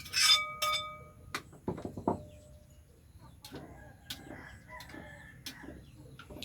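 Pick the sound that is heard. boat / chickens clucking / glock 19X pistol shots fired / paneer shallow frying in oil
chickens clucking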